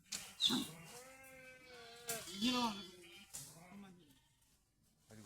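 Sheep bleat nearby in a few drawn-out, wavering calls, with voices talking faintly in the background.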